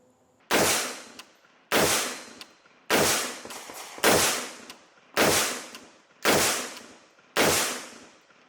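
Seven sharp, loud rifle shots from a Springfield Armory Saint Victor AR-10 in .308 Win, fired at a slow steady pace roughly once a second, each with a ringing outdoor decay.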